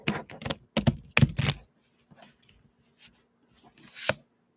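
Quick bursts of crisp riffling and rapid flicking as a deck of cards is shuffled, two flurries early on, then quieter taps and a final snap.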